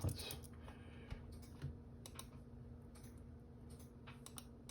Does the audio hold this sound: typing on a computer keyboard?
yes